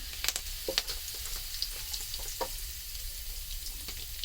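Soft oil sizzle with scattered crackling pops as curry leaves and cumin fry in a pan, close and moderately quiet, with a cluster of sharper spits early on and no talking.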